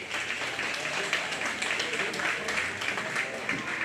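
A crowd at a county fair livestock show gives a round of applause, steady dense clapping that carries evenly for a few seconds.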